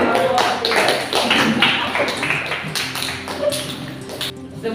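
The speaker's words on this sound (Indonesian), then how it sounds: "beri aplaus untuk kelompok" A classroom group gives applause to a presenting group in a teacher-training lesson, with dense, steady clapping from many hands at close range throughout, tapering slightly at the end.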